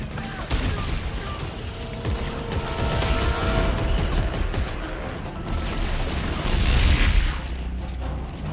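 Grenade blasts and gunfire in the sci-fi horror game Dead Space, a dense, sustained clatter of shots and mechanical noise with a heavier boom swelling near the end, continuous throughout.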